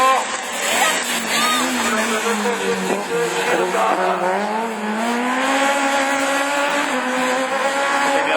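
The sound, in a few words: Clio Super 1600 rallycross car racing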